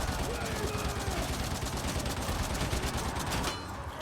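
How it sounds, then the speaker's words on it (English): An Ogryn's heavy gun in Darktide firing without pause, a dense roaring stream of shots that drowns everything before cutting off near the end. "I fired that gun for so long."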